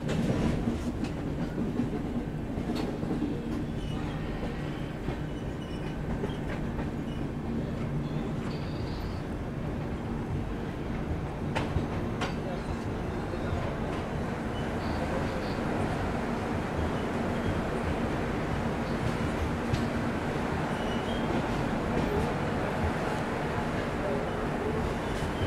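A train runs steadily on rails near Warangal for the whole stretch, a continuous loud rumble with rhythmic clatter and faint voices underneath.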